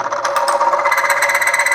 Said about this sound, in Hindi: आप सुन सकते हैं फ्रिक्शन के साउंड।